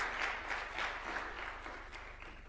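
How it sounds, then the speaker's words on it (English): Audience clapping for the arriving ODM party leader at a State House event in Kenya, a steady wash of applause over low hum, fairly distant and even throughout. "Could we clap for the party leader of ODM as he comes?"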